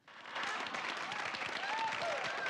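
Outdoor football crowd applauding, a dense wash of clapping that swells in quickly and holds steady at full loudness, with faint whistles rising through it.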